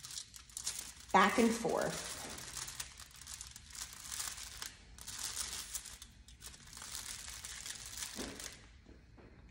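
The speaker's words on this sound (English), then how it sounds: "I'm going to fold the foil with that hair in the foil" Aluminium foil crinkles and crunches as it is folded around a section of hair during editorial hair styling, with a loud burst of crumpling early on and softer rustles after, under a person talking.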